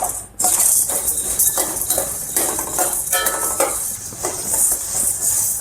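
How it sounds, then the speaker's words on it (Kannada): Toor dal dry-roasts over a medium flame while a metal spoon scrapes and stirs it in a pan, making repeated rattling scrapes and clinks with a faint sizzle underneath, close and clear. "ಈಗ ತೊಗರಿಬೇಳೆನ ಮೀಡಿಯಂ ಫ್ಲೇಮಲ್ಲೇ ಚೆನ್ನಾಗಿ ಫ್ರೈ ಮಾಡ್ಕೊಳ್ಳೋಣ."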